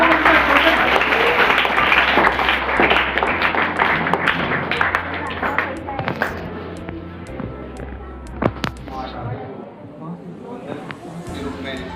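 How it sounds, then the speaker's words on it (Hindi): Loud applause from the crowd at a school farewell ceremony for staff, heavy clapping at first that thins into scattered claps and fades, with a voice speaking over it. "जोरदार तालियों से उनका स्वागत है।"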